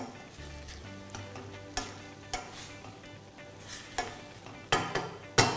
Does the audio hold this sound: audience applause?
no